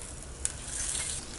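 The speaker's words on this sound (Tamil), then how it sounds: "நம்ம 2 வரமிளகாய் கிள்ளி வச்சுருக்கிற கருவேப்பிலை இப்போ பொரிஞ்சிருச்சு." Curry leaves and two broken dried red chillies crackle and sizzle in hot oil for a chutney tempering, a steady close hiss with one brief sharp pop early on.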